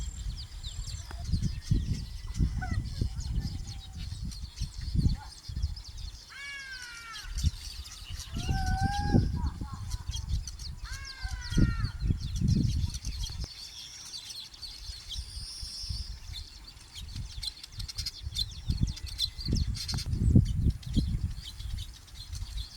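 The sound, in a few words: weaver birds calling while nesting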